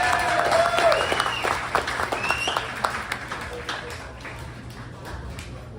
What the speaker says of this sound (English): Can everybody give a round of applause for Michelle?